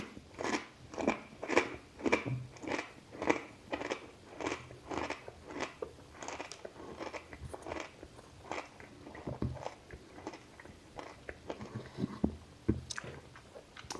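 Loud, close crunching of crisp chips, a steady run of sharp bites and chews at first, turning into looser, irregular crunching later.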